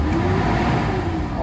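A gasoline-engined Mitsubishi Adventure idles close by with a steady, low rumbling drone, suffering from throttle delay and low power. The engine note stays even and continuous for the whole moment.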